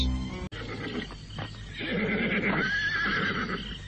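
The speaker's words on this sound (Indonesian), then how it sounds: "Sebuah kandang yang diisi banyak sekali kuda-kuda pilihan." Horses neigh and whinny in a stable of fine cavalry mounts in an audio drama, a loud rising whinny standing out midway over a busy bed of other horse sounds, with no talking.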